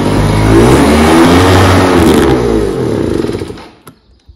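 A motorbike engine with a carburettor fault runs on the choke and is revved. It roars loudly, wavers and fails to pick up revs, then sputters and dies out to near silence.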